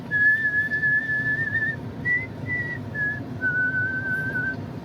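A young farmer whistles a cheerful tune outdoors, clear sustained notes broken into a few short phrases over steady low background noise.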